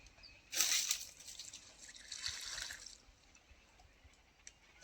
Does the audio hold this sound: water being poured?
yes